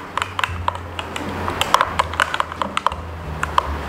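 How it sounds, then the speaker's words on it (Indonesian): Eggs being beaten with a whisk in a bowl while preparing a tofu, mushroom and egg dish, giving fast, irregular light clicks and taps close by with no talking. "taruh telurnya, kita kocok di sini"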